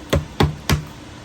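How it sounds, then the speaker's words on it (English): Three sharp, solid knocks land in quick succession as a hammer knocks out stucco from a wall, with brief silence between blows. "get my hammer and knock this out real quick"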